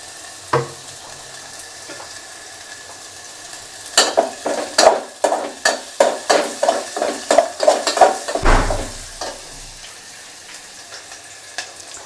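Food frying in a little oil gets stirred in a pan, starting with a quiet sizzle and then a run of loud, close, rhythmic scrapes and clinks of a utensil against the pan before it settles again.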